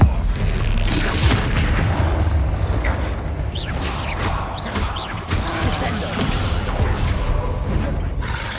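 Bombarda spell blasts from the Hogwarts Legacy video game boom loudly in a dense, continuous battle mix, with voices talking over the repeated explosions and impacts.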